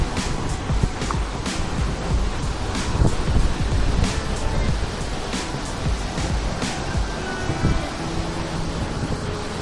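Water rushes and roars steadily at Sita Falls near Ranchi, a dense, continuous broadband wash with no pauses, heard close and loud.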